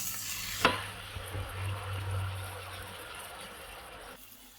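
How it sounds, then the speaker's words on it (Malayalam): A sudden sharp hiss as half a cup of water hits sizzling prawn biryani masala, followed by a sustained sizzle and low bubbling that carries for several seconds before cutting off, close and alone. "ഇനി ഇതിലേക്ക് 1/2 കപ്പ് വെള്ളം ഒഴിച്ചിട്ട് വേവിച്ചെടുക്കാം"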